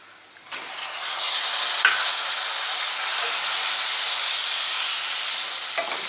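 Prawns for a chukka curry sizzle and hiss steadily after dropping into a hot pan, with a few sharp stirring clatters and no one speaking.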